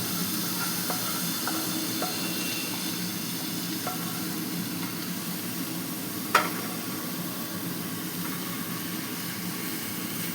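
Red amaranth greens go into a pan of frying loach fish, giving a steady, close sizzle with faint stirring scrapes and one brief sharp clink partway through.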